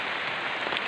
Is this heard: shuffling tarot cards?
no